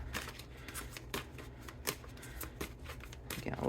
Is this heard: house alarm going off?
no